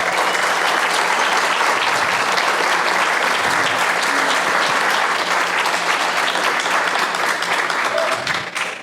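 A conference audience in Costa Rica applauds steadily to welcome a panelist onto the stage, dense sustained clapping from many hands that fills the room for the whole stretch and tapers slightly at the very end.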